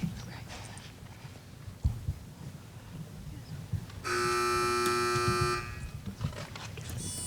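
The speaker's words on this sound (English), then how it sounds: "Teams, wait for the buzzer." Amid background chatter, a harsh electronic buzzer sounds once for about a second and a half, loud and sustained, with a brief second tone near the end.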